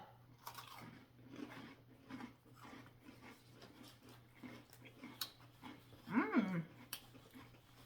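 Someone bites into a hard, very crispy cookie and chews, with soft crunching and mouth sounds repeating over several seconds and a louder burst near the end, quiet and close with a low steady hum behind.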